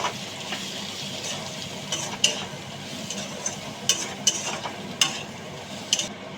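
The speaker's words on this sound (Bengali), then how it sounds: "এবার এটাকে ভালো করে আমি কষিয়ে নেব।" Diced potato and capsicum being sautéed and stirred in a pan with chili, cumin and coriander powder: a soft steady sizzle broken by sharp scrapes and clinks of a spatula against the pan at an uneven pace.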